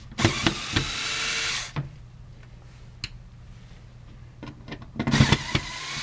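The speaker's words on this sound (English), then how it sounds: "Just unscrewing the two screws." A powered screwdriver whirs to back out two screws holding the wiper blade on an HP 12A toner cartridge, with two close buzzing bursts separated by clicks and light plastic handling.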